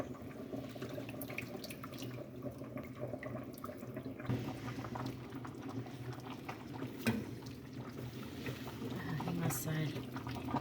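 Boiled and cooled water pours onto flour for a rice dish, a steady close trickle and splash running throughout while a person talks over it.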